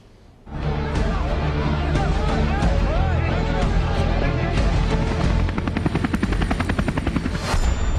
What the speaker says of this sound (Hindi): हेलीकॉप्टर से भी निगरानी जारी रही।